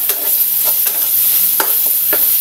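Garlic and onion sauté in a little oil, a loud, close, constant sizzle broken by several sharp crackles and pops, free of talk.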